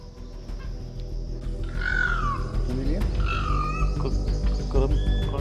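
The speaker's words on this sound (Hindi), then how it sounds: "ये मोर की आवाज़ है और वो अलार्म कॉल कर रहा है।" A peacock gives harsh, repeated alarm calls in the Bijrani zone forest, with two or three loud, wavering cries rising over a steady background of low rumble and noise.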